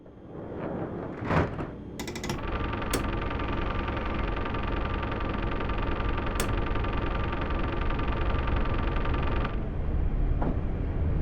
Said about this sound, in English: The noise you heard is the train's regenerative braking system.